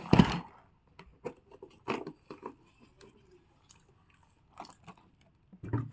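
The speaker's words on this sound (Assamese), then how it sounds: "কটাৰী দি কাটি আছে চাওক" Crisp cuts with a katari, a curved knife, come as sparse short crunchy chops spread across several seconds, close and fairly quiet, with a louder burst at the start and end.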